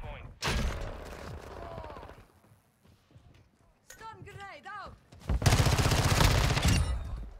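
X13 SMG fired in Modern Warfare 2, loud rapid bursts of gunfire in two clusters separated by quieter game sounds, with someone talking alongside.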